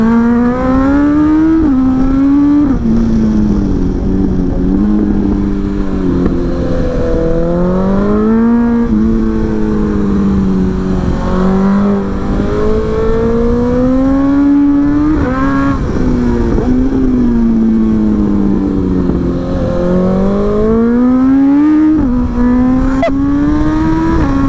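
A 2023 BMW S1000XR motorcycle pulls hard through the gears, its engine pitch climbing steeply and then dropping sharply at each quickshifter change, repeating over and over, loud and close with wind noise beneath.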